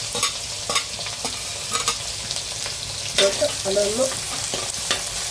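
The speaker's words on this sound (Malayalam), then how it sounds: "നമുക്ക് ഇഞ്ചി, ചെറുതായിട്ട് അരിഞ്ഞു വെച്ചിരിക്കുന്ന ഇഞ്ചി വെളുത്തുള്ളി ഇട്ട് കൊടുക്കാം" Chopped ginger and garlic hit a hot pan for a fish curry and fry with a loud, continuous sizzle, punctuated by several scraping stirs. A voice briefly says a word partway through.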